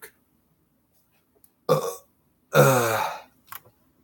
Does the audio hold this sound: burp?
yes